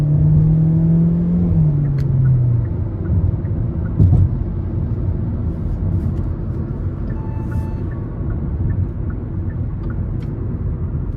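A Hyundai Elantra SEL with a 2-liter naturally aspirated four-cylinder engine pulls hard under acceleration, a steady loud engine drone with a rising tone early on over continuous road rumble, heard from inside the car.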